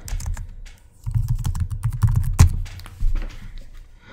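Keys clatter in quick, uneven bursts on a computer keyboard while an error message is typed into an Excel data-validation box, with a low rumbling hum underneath.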